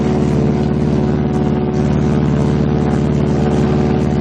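Twin radial piston engines of a B-26 Marauder bomber drone in flight, a loud, steady, pulsing low roar with a constant propeller beat throughout and no break.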